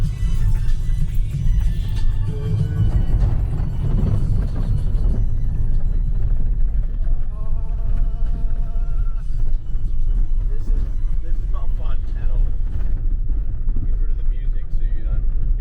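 A car drives a long corrugated gravel road between Cairns and Toowoomba, making a loud, steady low rumble and constant vibration with no break, and a voice is briefly heard.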